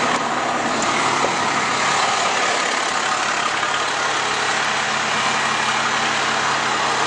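A fire truck engine idles steadily in pump mode, a dense, even broadband rumble holding at constant loudness with no talk over it.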